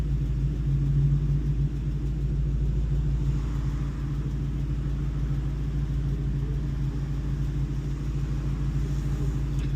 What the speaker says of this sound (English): I got the windows down so we could kind of get some real-time sounds from the car.